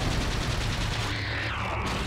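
Gunfire from the player's weapon in Resident Evil 4, a quick burst of shots over a dense, loud backdrop of game noise.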